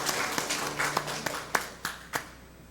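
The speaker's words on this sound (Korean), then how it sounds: "하나님께 영광의 박수 올려드리겠습니다." A church congregation claps during a Sunday worship service, a sparse, fairly quiet scattering of hand claps with a few distinct sharp strikes over low room hum.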